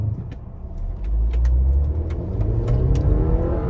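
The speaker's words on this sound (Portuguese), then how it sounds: "eu vou dar um pé fundo aqui para vocês verem" A 2014 BMW X1 2.0 turbo in sport mode pulls hard under full throttle, its engine note rising loud and close inside the cabin, with faint clicking over the steady drone.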